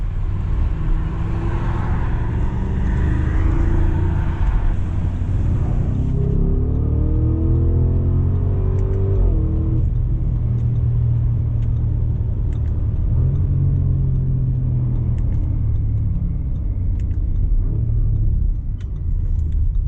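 A 2022 Audi SQ7 V8 SUV driving hard through a corner, heard from inside as a deep, steady engine rumble and road roar, with a rising then falling engine note in the middle, loud and continuous.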